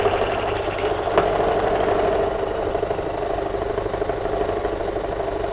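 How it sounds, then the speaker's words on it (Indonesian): Hot engine running steadily under a dropped load during a motor oil trial, a constant mid-pitched idling drone with a slight rough knock, close and alone. "ketika mesin itu sudah panas, lalu beban itu Pak kita jatuhkan atau beban ini kita jatuhkan ya."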